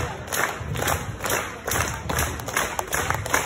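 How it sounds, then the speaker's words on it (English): Street performance crowd in York clapping along together in a fast, steady rhythm, dense and fairly loud, with shouts and cheers mixed into the noisy outdoor clatter. "Please clap, man"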